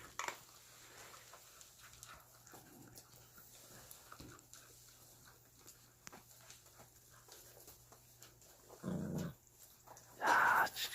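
A young Korean Jindo stray dog growls low and quietly while eating, then lets out two louder, rougher bursts near the end against an otherwise hushed background.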